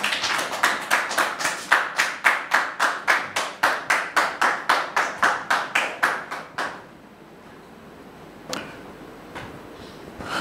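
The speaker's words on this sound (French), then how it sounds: "Merci, public, de recevoir notre sœur sous vos applaudissements" A studio audience claps in unison as a guest is welcomed, a loud, evenly spaced beat of about twenty-five claps. The claps stop abruptly, leaving near-silence broken by a couple of faint knocks.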